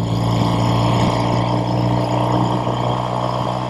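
A 1969 Triumph Daytona 500 parallel-twin motorcycle engine runs steadily on the road, a loud continuous drone with strong low harmonics and wind rush, holding an even pitch throughout.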